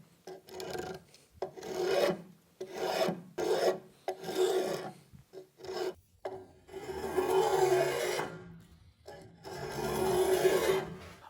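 Sandpaper rubs back and forth across a wooden stool top in rhythmic, close rasping strokes with short pauses, ending in longer, smoother passes.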